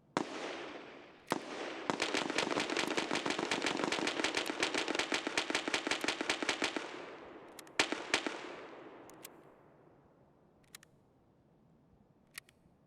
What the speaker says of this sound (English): P90 loading mag simulator